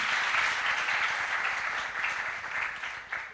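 A church congregation claps for Jesus during a worship service, a dense, steady wash of applause that holds throughout and tapers slightly near the end, with no voices standing out.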